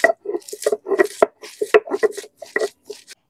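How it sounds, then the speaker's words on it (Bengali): Green chilies and salt are ground by hand on a stone slab, a run of short, close scraping and rubbing strokes in an uneven rhythm, each a brief gritty burst, then it stops. "এবার ওই পাটাতে কাঁচা ঝাল লবণ দিয়ে বেটে নেবো"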